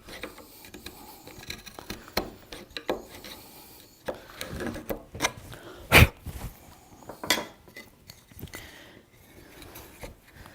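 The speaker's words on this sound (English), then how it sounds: "I'm going to go ahead and try to get down inside there with my mortise chisel" Mortise chisel scraping and prying waste out of a wood mortise, with irregular rubbing scrapes and dull knocks and one sharp crack midway, close and sporadic with no talk.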